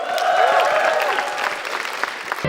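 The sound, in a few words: applause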